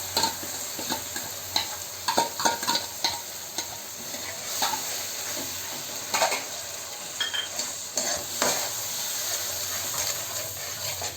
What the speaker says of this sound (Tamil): இப்போது நம்ம தக்காளியும் பூண்டும் அரைச்சி வச்சுருக்க பேஸ்ட்டை ஆட் பண்ணிக்கலாம்